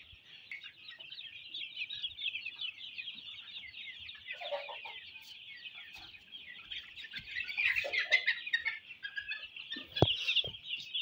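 Desi chicks cluck and peep steadily throughout, a dense close chorus of small bird calls with a few louder knocks and scuffs toward the end.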